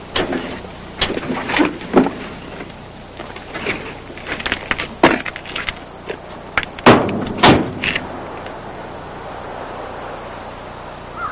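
A truck door is worked in a close interior scene, with a run of sharp clunks, latch clicks and thuds across several seconds before settling into a quiet background hum.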